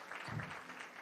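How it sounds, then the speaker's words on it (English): Applause from an audience at a gun and community violence prevention event, a short burst of clapping that sounds moderately near and steady with no voices over it. "Can we give them a round of applause?"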